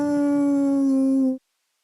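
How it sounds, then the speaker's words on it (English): A single long, steady howl from a pack of wolves, played as a game sound effect. It is loud and close and cuts off abruptly after about a second and a half, followed by silence. "You guys can hear this howling of this collection of wolves."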